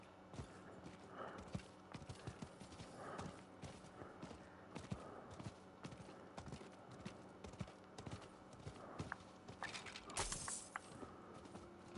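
Rhythmic hoof clip-clops of a horse moving at a steady pace in the video game Diablo IV, fairly quiet and continuous, with a few brighter clatters along the way.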